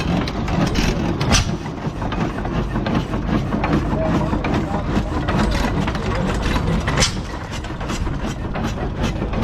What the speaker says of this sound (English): this is a hit and miss engine